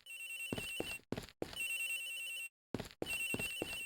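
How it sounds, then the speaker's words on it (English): Video game telephone ringing in repeated electronic trills, each burst lasting about a second with brief silent gaps between rings, clear and steady with no voices. "Agent Hicks' phone is ringing for so-and-so."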